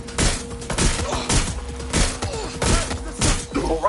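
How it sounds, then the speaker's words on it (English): Gunfire in Watch Dogs Legion, a burst of sharp, loud shots arriving in quick irregular clusters with thuds and clatter between them, close and punchy. "Taking fire!"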